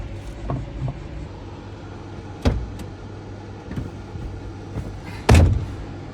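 A car pulls away with its engine rumbling low and steady, while a few dull thumps and knocks, like doors or cargo shifting, break through near the start, middle and end; nobody speaks.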